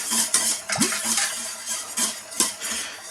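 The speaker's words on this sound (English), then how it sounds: "I'm going to remove my jars from where they were sterilised." Sterilised glass jars are lifted and set down in a home kitchen while lemon curd is being made, giving scattered bright clinks and knocks among soft handling noises, with no talking.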